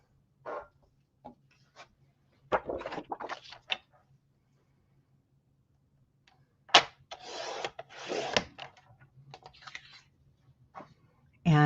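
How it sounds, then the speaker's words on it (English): Scissors cut a strip of yellow paper in several short bursts of crisp snipping and rustling, close and fairly quiet, with pauses between. "We need to cut, we're going to cut this strip here."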